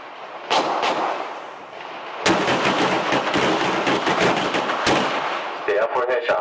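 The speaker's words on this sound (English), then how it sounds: "4 rounds in 3 seconds. 2 right, 2 left." Rapid handgun shots from a police qualification course, several sharp loud reports in quick succession followed by more, with range noise between volleys.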